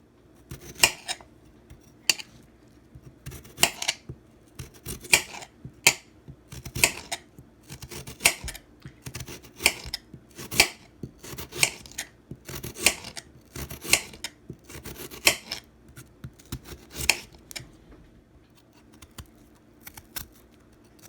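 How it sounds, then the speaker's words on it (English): A dull kitchen knife slices potatoes on a cutting board for au gratin, sharp, evenly spaced chops repeating roughly every second, close and clear against a quiet room. "So I finished chopping all of the potatoes"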